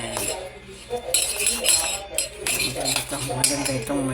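Spoon or fork clinking against a bowl while beating scrambled egg for a grilled eggplant omelette, a busy run of light metallic taps and scrapes close by, under steady talk.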